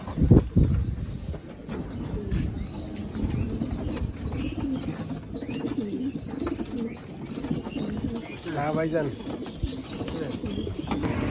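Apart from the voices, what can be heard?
pigeons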